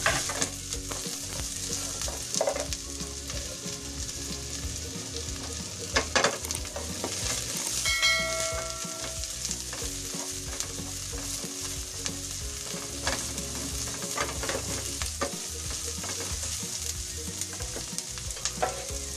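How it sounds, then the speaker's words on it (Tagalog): Garlic and onion sizzle steadily in a hot pan for a shrimp and bok choy stir-fry, with a spatula scraping and stirring throughout; close, continuous frying with irregular clicks and no talking. "Halo-haloyin po natin para hindi po masunog ang ating bawang. Lagay po natin ang sibuyas."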